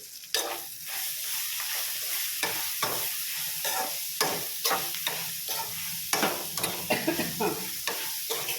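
Curry leaves stirred into bitter gourd frying in a pan for a red lentil stir-fry, with a steady close sizzle and repeated scraping strokes of the spoon, no talking.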